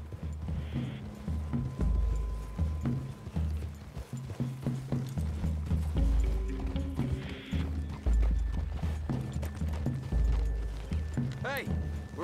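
Horse hooves clip-clop at a steady walking rhythm in Red Dead Redemption 2, with a whinny and tack jingles, under spoken character dialogue and soft ambient game music.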